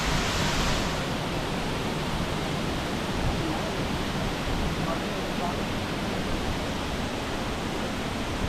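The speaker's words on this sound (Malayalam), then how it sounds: "ഇതാണ് വാട്ടർഫാൾസ് പാലരുവി വാട്ടർഫാൾസ്" Palaruvi waterfall roars in a steady, loud, dense wash of rushing water that holds unbroken from start to finish.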